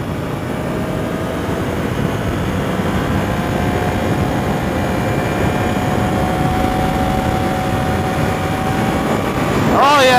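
A 2015 Yamaha YZF-R1 with a cross-plane crank engine runs steadily, a continuous close mechanical drone with a faint whine, rising briefly in pitch at the very end.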